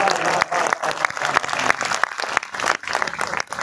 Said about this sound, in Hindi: बोले यार कब तक ताली बजाएं